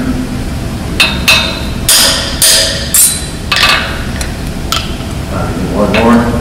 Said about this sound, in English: over to my hammer.